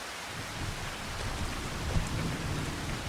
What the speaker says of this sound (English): while it continues to rain